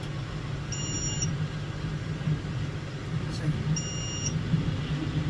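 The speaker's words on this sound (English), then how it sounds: "Why is everything beeping?" Two short bursts of high electronic warning beeping from a John Deere 6125 tractor baling, about three seconds apart, ring out over a steady low engine rumble.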